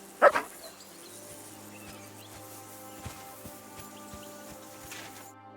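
A dog in the medieval video game Kingdom Come Deliverance 2 gives a couple of sharp, close barks at the start, then quieter game ambience carries on with soft thuds and no talk.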